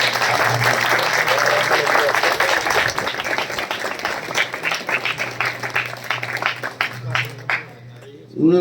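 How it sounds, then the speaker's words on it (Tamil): An audience claps at a Kongu Polytechnic College NSS camp valediction function in Perundurai, with sustained applause that thins into scattered claps. Amplified speech runs over the clapping. "அவர் மீண்டும் ஒரு நல்ல கைதட்டல் கொடுத்து"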